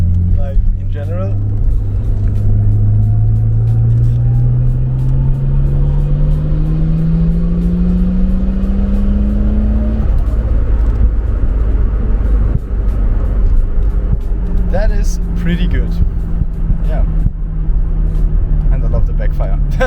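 A Nissan Skyline R32 fitted with a cheap turbo runs with a deep, steady engine rumble and a slowly rising tone, while someone talks over it.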